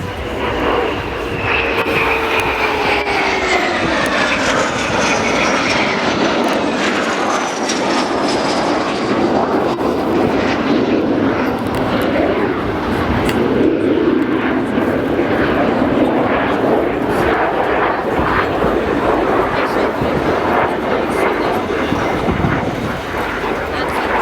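Patrouille de France jet aircraft roar past at the 2011 Leuchars airshow, a loud sustained engine rumble swelling and sweeping across the sky while an announcer commentates over a public address.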